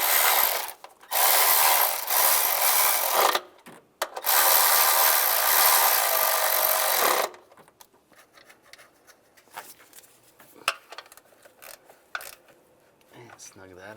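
A ratchet tightens the intake manifold bolts on a 2007-2013 Chevrolet Silverado 1500, a close, loud burst of rapid clicking in several runs. Quieter handling noises follow.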